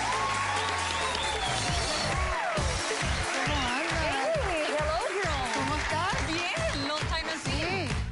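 Studio audience applause on a late-night talk show, steady dense clapping that fills the room loudly and evenly, with a voice speaking over it as the clapping carries on.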